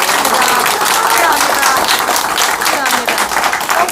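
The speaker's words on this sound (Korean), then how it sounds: "박수!" Applause breaks out at a press conference held after a party primary, a dense steady clatter of many hands clapping at close range for several seconds, with crowd noise mixed in.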